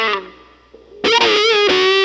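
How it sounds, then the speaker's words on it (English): Electric guitar played through a wah-wah pedal with distortion, the intro to a song: a sustained note fading, then loud sweeping harmonic-rich wah notes entering abruptly, played alone. "you're rocking the wah-wah with that"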